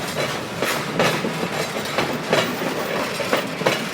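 Museum train with a red caboose rolling past, a steady loud rumble of railcars with rhythmic clickety-clack wheel beats and a faint wheel squeal, no talking.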